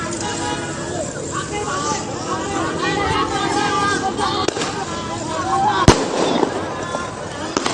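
Firecrackers pop and crackle during a street brawl between two youth groups on Jalan RE Martadinata, Tanjung Priok, North Jakarta, with sharp bursts standing out over constant crowd noise and a reporter talking throughout.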